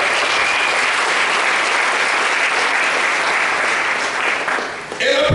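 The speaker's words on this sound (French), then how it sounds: "Acclamons Jésus pour le Seigneur." Church congregation clapping steadily through a worship service, a dense, loud, sustained wash of hands that barely wavers and swells slightly at the very end.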